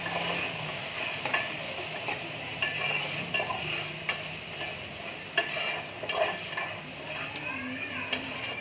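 Spices and sambar powder get stirred together in a hot pan for tomato rice, with steady scraping and clinking of a spoon against the pan over a low, continuous sizzle.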